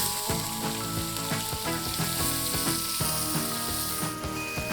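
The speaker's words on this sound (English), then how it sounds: "The bacon's out, now we're going to throw in our onions" Onions fry in hot bacon drippings in a pot, a dense, steady, loud sizzle with occasional crackles and light stirring, heard close up and alone.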